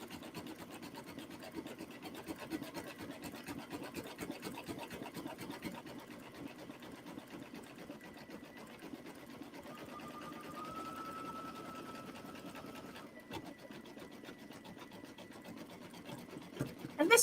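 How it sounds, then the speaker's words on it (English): A home embroidery machine stitches a letter L design, its needle pulsing in a fast, steady rhythm close by. A faint high tone briefly rises over the mechanical chatter late in the run. "I love watching it stitch."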